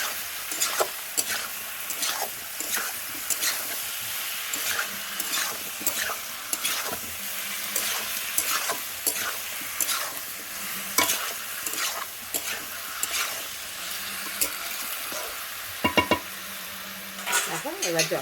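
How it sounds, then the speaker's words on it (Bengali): Vegetables, including potato, bottle gourd and drumsticks, are stir-fried with spice paste in a pan. A steady sizzle runs under repeated scraping and stirring strokes of a utensil against the pan, with occasional louder clanks. "দিয়ে সবজিটার সঙ্গে মশলাটা আমি একটু কষে নেবো"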